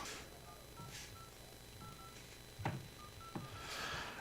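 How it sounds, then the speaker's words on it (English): Keypad dialing tones on a Samsung Galaxy A25 phone, several short beeps tapped at an irregular pace, close and fairly quiet against a faint hiss. "and then we're just going to dial the phone number."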